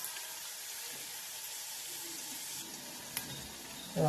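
Onion frying in a pan for pav bhaji gives a soft, continuous sizzle throughout, fairly faint and unbroken, with a brief clink near the end.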